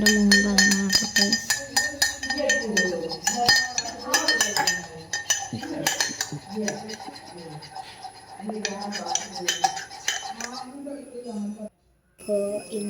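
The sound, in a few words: stirring a creamy drink in a pan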